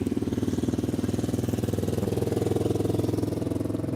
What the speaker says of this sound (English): He was riding his motorcycle.